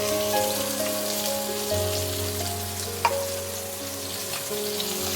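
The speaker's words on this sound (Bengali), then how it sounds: "দিয়ে এঁচড়গুলোকে আমি একটু হালকা ভাজবো।" Young jackfruit pieces fry lightly in a pan with salt and turmeric, a soft continuous sizzle under a steady low hum, with one sharp utensil tap near the middle.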